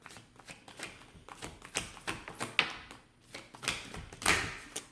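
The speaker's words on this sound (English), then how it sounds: "I'm going to grab my little oracle cards." A small deck of oracle cards is shuffled by hand, giving a run of close, crisp riffling snaps and soft taps in irregular bursts, with no talking.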